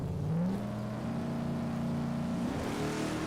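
A drag-racing Ford Cortina launches at full throttle at Sydney Dragway, its engine note climbing in one sustained, loud roar that holds steady and then rises near the end.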